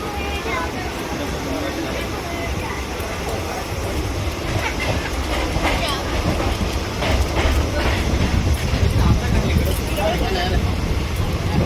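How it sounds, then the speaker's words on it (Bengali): A passenger train rolls along the rails with a steady low rumble and rhythmic wheel clatter that builds toward the end, while people talk inside the carriage. "অনেকদিন পর ট্রেনে চেপেছি"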